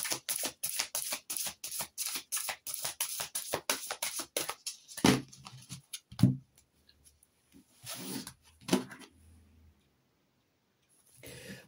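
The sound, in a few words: cutting and shuffling a deck of tarot cards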